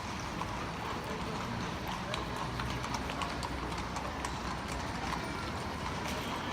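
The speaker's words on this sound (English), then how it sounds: "See the horse-drawn carriages." Rhythmic clip-clop of hooves on pavement from a horse-drawn carriage in a palace courtyard in Vienna, steady and fairly faint amid outdoor crowd noise and voices.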